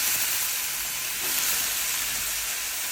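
Vegetables stir-fried in a hot pan for a Thai vegetable curry, a steady close sizzle and hiss of frying running throughout with faint stirring scrapes, no voices.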